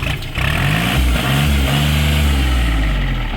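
A 2018-registered Kubota L4018 three-cylinder 40-horsepower four-wheel-drive tractor runs close and loud, a steady low diesel rumble with a slight rise in revs after starting, heard alone without talk.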